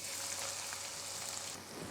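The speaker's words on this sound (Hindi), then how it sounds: "ऑयल गर्म हो गया, इसमें हम डालेंगे अदरक और लहसुन।" Chopped ginger and garlic sizzle steadily in hot oil in a pressure cooker, a soft, continuous hiss of frying with no talking.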